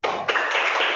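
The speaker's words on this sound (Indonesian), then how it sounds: "berikan tepuk tangan kepada kelompok 3" A classroom group applauds for presenting team 3, a dense burst of many hands clapping close by that starts at once and holds steady, with a short surge partway through, and no voices over it.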